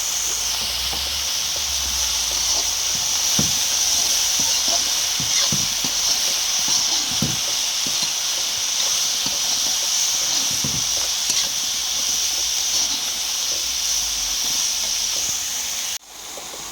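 Mushroom curry with salt, turmeric, red chili and cumin powder sizzles steadily in a pan, a loud continuous hiss with faint clicks and pops throughout, ending with a brief handling knock.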